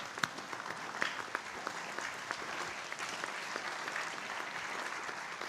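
A crowd applauds a chief guest with a standing ovation at a Catholic assembly in Nairobi, clapping steadily for several seconds at moderate, somewhat distant volume with a few sharper claps.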